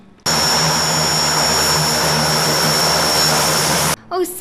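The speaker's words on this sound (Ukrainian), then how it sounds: "літак рятівник Ан 26 Віта на борту є реанімація та операційна" An Antonov An-26 rescue aircraft's engines roar loud and close in a steady, unbroken drone with a high whine on top, cutting off abruptly near the end.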